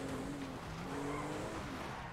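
Car tires screeching in the video game GTA V, a sustained skid squeal with engine roar rising and falling over about two seconds, loud and close.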